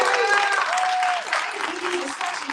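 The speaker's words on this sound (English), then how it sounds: "why don't I give Representative Harris a round of applause" Applause from a conference audience at the National Medicare for All Conference, a full round of clapping and cheering with voices and whoops mixed in, loud throughout and tapering slightly at the end.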